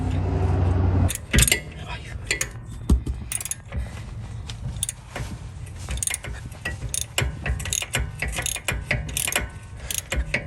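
Ratchet clicking steadily while backing out the Torx caliper bolts at the rear of a brake caliper on a 2018 BMW 330i, a busy run of quick metallic clicks with background noise and occasional voices.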